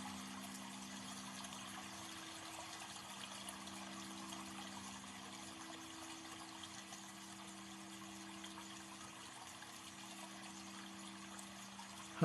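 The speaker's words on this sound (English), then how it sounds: "Water sound therapy." Water flows steadily at low volume with a constant trickling wash, over a faint steady mechanical hum like a pump, unbroken for about twelve seconds with no talking.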